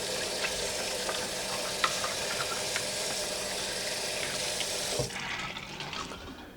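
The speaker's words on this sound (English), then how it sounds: "I'm just going to rinse them off real quick here." Tap water runs steadily into a sink as shellfish are rinsed under it, a close, continuous hiss and splash that drops off near the end when the flow is cut.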